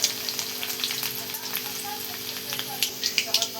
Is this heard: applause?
no